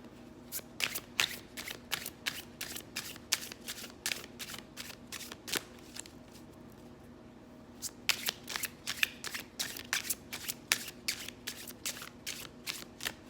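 Tarot cards are shuffled repeatedly in quick riffling bursts, close and crisp, pausing briefly in the middle before resuming.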